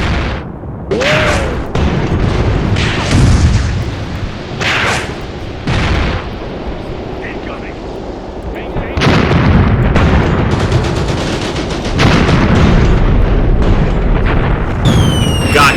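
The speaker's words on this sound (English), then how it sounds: "Looks like they're already going to be dropping artillery in this area." Artillery shells exploding in a WW2 tank battle game set in Tunisia, 1943: repeated loud, close booms and crashing blasts at irregular intervals over a continuous rumbling battlefield din.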